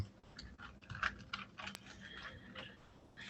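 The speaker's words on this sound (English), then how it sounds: "I was just typing a chat to someone real quick" Faint, quick tapping of keys on a computer keyboard comes through in irregular bursts over a quiet background, with no talking.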